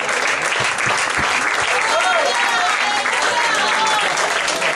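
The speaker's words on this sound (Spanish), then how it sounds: "¿Cuántos pueden darle un aplauso al Señor?" A church congregation applauds loudly and steadily throughout, a dense wash of hands with a few voices calling out underneath.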